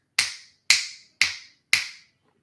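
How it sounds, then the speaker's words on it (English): Four crisp finger snaps in an even, steady rhythm, each a sharp close click with a short decay, alone in silence. "So that's why I snap my fingers."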